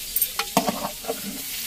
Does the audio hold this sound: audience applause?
no